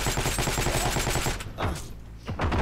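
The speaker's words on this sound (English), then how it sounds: "Okay, we're getting shot at." Gunfire in the World War II shooter Heroes and Generals: a loud, rapid automatic burst of close shots, then a brief lull and a few more scattered shots, with no talking.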